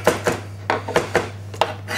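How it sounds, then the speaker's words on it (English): A knife roughly chopping fresh tomatoes on a board for a Provençal pasta sauce, about eight uneven, crisp thuds in a loose rhythm, close and fairly loud over a steady low hum. "it's a rough chop, because what's going to happen is when we're actually cooking this, the tomato is going to break down further"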